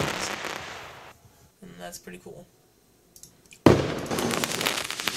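Fireworks sound effects from a fireworks mod for the Opera GX browser, triggered by typing: a dense crackling burst opens the clip, then a quieter stretch of talk, then a sharp, loud crackle and pop that keeps going to the end.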